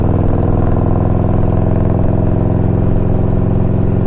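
A Harley-Davidson Evo engine idles on a 1992 Electra Glide Sport, a steady, close, low rumble with an even throb that holds without revving and with no voices.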